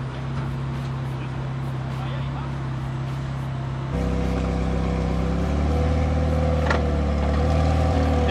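A McLaren 720S engine drones steadily at low revs, close and constant, with its tone shifting upward partway through as the car moves off, and no talk over it.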